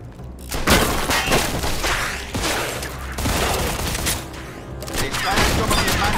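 Gunfire in the Mafia II Definitive Edition shooter, a dense, continuous volley of loud shots and impacts with shattering and thuds, a few bursts separated by brief lulls, with voices shouting in between.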